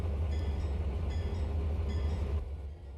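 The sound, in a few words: Dash 7 locomotives with coal train moving, Trainz video game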